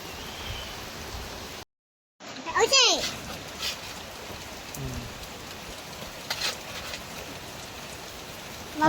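Steady rain falling in a home setting, a constant patter of drops throughout with a brief dropout, while a voice and other voices are heard intermittently over it.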